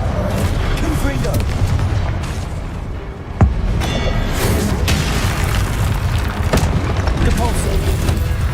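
A Confringo blasting-spell explosion from the Hogwarts Legacy video game, a sudden loud boom bursting midway through a dense, continuous bed of game sound and spoken incantations.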